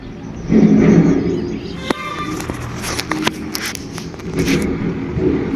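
A tractor engine labours while reversing with three trolleys in tow on an uphill track. The engine drones and surges up close, with a few sharp scrapes and clanks over it.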